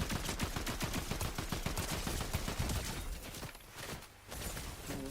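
Rapid automatic gunfire in Fortnite, a dense, continuous stream of sharp shots at close range that thins out and pauses briefly near the end before resuming.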